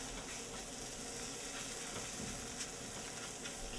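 Flour roux cooking in a pan, giving a constant soft hiss and sizzle with faint stirring scrapes, steady and close, no voices.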